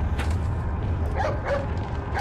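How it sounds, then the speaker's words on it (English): A dog in the Resident Evil 4 VR video game gives a few short yips and whimpering barks over constant low game rumble. "Is that the dog I saved earlier? Hey, it's that dog."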